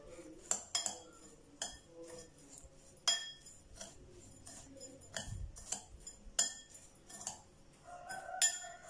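A spoon clinks and scrapes against a bowl while Oreo cake batter is stirred with a teaspoon of baking powder, giving soft, irregular taps and chinks at close range and a low murmur.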